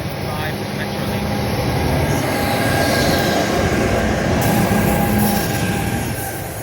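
A diesel locomotive train rumbles past close by at Clifton, New Jersey, steady and loud, with a metallic squeal from the wheels and a low engine drone throughout.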